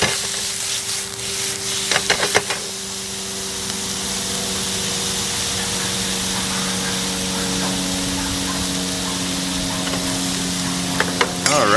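Shrimp sizzle in hot, lightly smoking olive oil in a pan, a loud and continuous frying hiss with a few clicks and knocks near the start and end.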